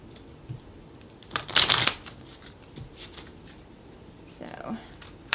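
Tarot cards shuffled and drawn during a 2024 pick-a-card reading: a loud riffling burst in the middle, a few lighter card flicks and slides before and after, close and otherwise quiet.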